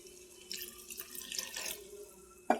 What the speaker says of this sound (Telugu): కొద్దిగా వాటర్ వేద్దామండి